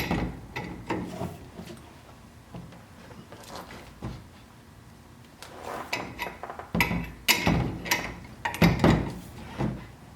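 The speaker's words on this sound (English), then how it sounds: "As we continue to tighten it, you can see the ball joint begin to be pressed up through the C channel of the axle." A ball joint press is cranked tight on a Jeep axle, pushing the old ball joint up through the axle's C channel: irregular metallic clicks, ratcheting and creaking strain, growing louder and busier toward the end.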